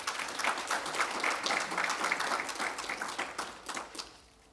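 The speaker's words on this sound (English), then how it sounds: "A round of applause for them." Applause at a convention of the Actuarial Society of Zimbabwe: a fairly distant room of many hands clapping steadily for several seconds, then thinning and fading out.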